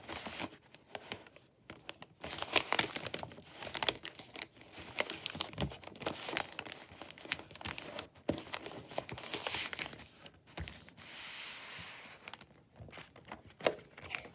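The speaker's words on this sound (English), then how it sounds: "you're going to make a mountain fold down on each side" Paper is folded and creased into origami mountain folds, producing soft irregular crinkles and rustles close by, quiet and intermittent with brief louder crackles.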